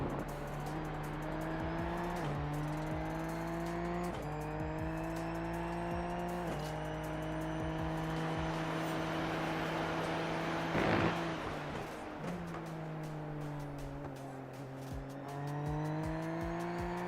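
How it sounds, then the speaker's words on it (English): Race car engine in a racing video game at Algarve International Circuit, a loud steady whine that climbs and drops through gear shifts, with a short harsh tire squeal as the brakes lock up midway. "Lockup of the brakes there for Charles."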